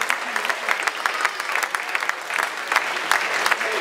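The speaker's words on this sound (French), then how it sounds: "on peut les applaudir bien fort" Crowd at a women's amateur boxing gala in Épernon applauding after a bout, with dense, lively clapping and sharp individual claps popping out, sustained and fairly loud.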